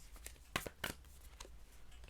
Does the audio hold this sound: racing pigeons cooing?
no